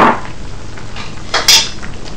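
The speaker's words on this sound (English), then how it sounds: "you're going to strain it into the broth" Shrimp head pulp strained into broth for pancit: metal utensil and strainer clink and scrape against a pot in a few close, loud knocks, with no talking.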